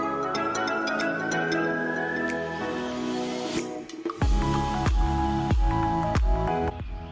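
Hands work wet homemade boilie dough, first a rising whirring hum, then a run of squelchy, sticky squishes and slaps that repeat in a loose rhythm close by.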